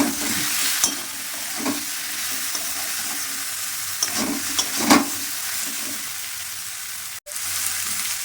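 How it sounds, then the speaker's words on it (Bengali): Rui fish curry with cauliflower and potato sizzles in a hot pan with turmeric and chili powder as a spoon stirs it, steady frying hiss broken by several scraping stirs and one sharp clunk near the end. "নেড়ে দিলাম"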